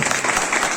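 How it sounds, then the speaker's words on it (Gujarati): Audience applause at a health talk, a dense wash of clapping filling the whole short moment at steady loudness with no voice over it. "વગાડો તો જોરદાર તાળી વાળો,"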